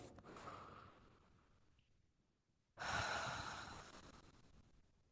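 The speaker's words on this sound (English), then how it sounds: "Take a deep breath." Two slow, deep breaths, each a long airy exhale that fades gradually, heard close and alone with a short silence between them.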